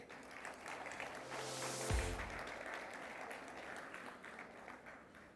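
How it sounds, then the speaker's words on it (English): An audience at an academic excellence awards ceremony breaks into a round of applause, a dense wash of clapping that swells and then sustains at a moderate level, with a brief low thump near the middle. "please can you give him a round of applause?"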